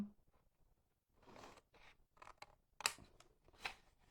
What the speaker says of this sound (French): je viens couper ça en angle, comme ça